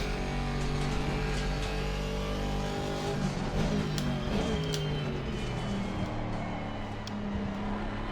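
Race car engine in Assetto Corsa Competizione during a multi-class race on Xbox Series X, droning continuously with layered harmonic tones that shift in pitch as the car revs and accelerates, steady and prominent throughout.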